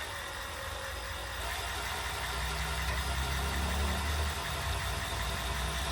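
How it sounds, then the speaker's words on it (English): A Mitsubishi 4G63 Evo VIII engine on a build stand cranks over to prime its oil pump, giving a steady low mechanical churn that swells after the first second and holds, moderately loud and close, with no talking. "So we'll prime the oil pump and we'll watch."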